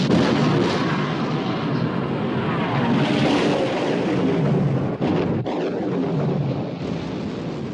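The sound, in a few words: battleship guns opening fire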